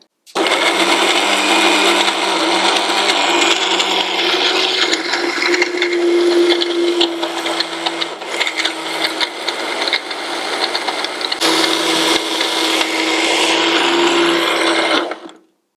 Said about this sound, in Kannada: ಈಗ ಮಿಕ್ಸಿ ಮಾಡ್ಕೊಳ್ಳೋಣ